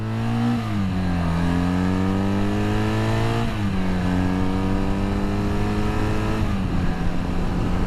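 A restored 1979 Honda CM400T motorcycle engine revs hard through the gears, its loud buzzing note climbing in pitch, dropping at each shift, then climbing again, heard up close.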